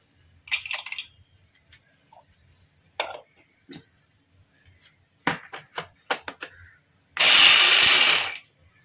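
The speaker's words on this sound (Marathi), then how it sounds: "ह्या भांड्यामध्ये आपण ड्रायफ्रूट्स जे आहेत ते सगळे आपण चॉप करून घेऊया" Scattered taps and clicks, then a loud electric chopper chopping dry fruits whirs in one steady burst lasting just over a second, close by.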